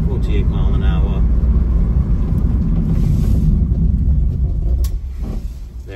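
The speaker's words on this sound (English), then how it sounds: "we might as well test the brakes out. We're at 48 mile an hour." A 2016 Vauxhall Vivaro 1.6L CDTI BiTurbo van braking hard from 48 mph: steady loud road and engine rumble that eases off toward the end as the van slows, with someone talking over it.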